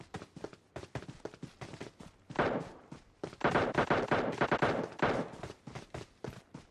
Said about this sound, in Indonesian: Kalau jelas nih suara tembakan tadi sih.